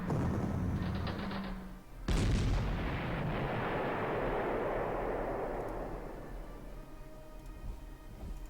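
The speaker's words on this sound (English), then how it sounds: "I got that artillery gun" An artillery gun in Panzer Corps fires once with a sharp, heavy boom, and a long rumbling roll trails off over several seconds. Before the shot comes a short tone, and no one speaks.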